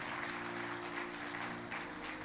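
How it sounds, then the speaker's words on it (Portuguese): A church congregation gives loud, sustained applause to the Lord. The dense, even clapping fills the room, and a faint background tone hums beneath it. "Então dê um aplauso bem forte ao Senhor e glorifique a Deus."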